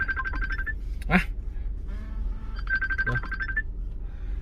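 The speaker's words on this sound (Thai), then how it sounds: "ต้องมีเสียงโทรศัพท์เข้าครับ" A phone ringtone for an incoming call sounds twice as a repeating electronic chirp, with someone talking over it at a vehicle viewing.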